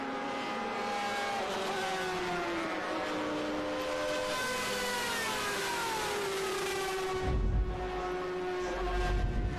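Race car engine at Virginia International Raceway during a SpeedTour weekend: a loud, sustained howl that shifts pitch as the car works through the gears, settling into a deeper rumble near the end, with no talk.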